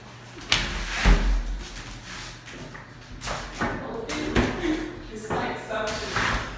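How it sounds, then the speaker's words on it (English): Bathroom door in a luxury resort room at Punta Cana pushed shut with a suction-like seal, giving a few soft, close thuds and clunks amid faint room noise. "And then you just close the door."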